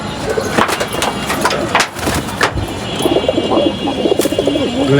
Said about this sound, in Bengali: এক পাট্টা কবুতর বেশিরভাগ এখানে 1 পাট্টা কবুতর আছে